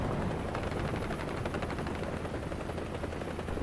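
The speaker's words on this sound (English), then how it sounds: "Here's a helicopter." Helicopter rotor thumping in the video game War Thunder, a dense rapid chopping rumble held steady and fairly loud for a few seconds.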